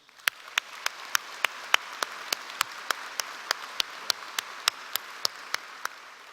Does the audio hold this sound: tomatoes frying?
no